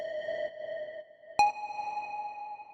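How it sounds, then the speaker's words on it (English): A simple synth lead in a melodic track plays two clean, sustained ping-like tones, the second entering with a sharp bright attack partway through. "So then after that, we have this little lead, which sounds like this."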